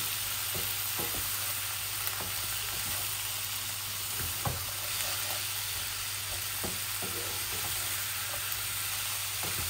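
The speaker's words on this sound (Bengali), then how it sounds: "আমি তেল, মরিচ, মশলা সব কিছু আমার পরিমাণ মতো দিয়েছি। এখন একটু ভাজা ভাজা হোক।" Pointed gourd and shrimp fry in hot oil with chili and spices, giving a steady, dense sizzle with small crackles and occasional stirring knocks, close and continuous throughout.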